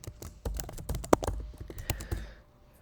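Login credentials are tapped out on a computer keyboard in a quick, uneven run of close, crisp keystrokes, one click louder than the rest, before the typing fades to quiet.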